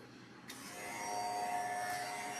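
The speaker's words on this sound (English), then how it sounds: "hair clipper" An electric hair clipper switches on and buzzes steadily close by, with a constant motor whine that swells slightly, and there is no talk over it.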